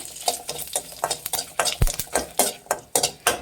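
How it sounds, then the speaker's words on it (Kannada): Cumin, garlic and dry red chillies are dry-roasted in a pan over a medium flame, with a close, rhythmic run of about a dozen scraping spatula strokes over a light crackle. "ಇದು ಮೀಡಿಯಮ್ ಫ್ಲೇಮಲ್ಲಿ ಇಟ್ಬಿಟ್ಟು ಹುರಿಬೇಕಾಗುತ್ತೆ"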